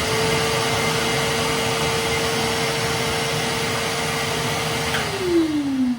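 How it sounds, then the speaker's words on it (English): Red wet/dry shop vacuum running for a loudness comparison, a loud steady whining roar that holds constant, then drops in pitch as the motor begins spinning down at the end. "go ahead and turn on the red vacuum"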